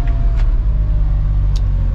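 A 2026 Can-Am Defender Limited HD11 UTV accelerating smoothly in two-wheel drive, a steady low engine rumble close by, with a couple of brief light knocks over the drone.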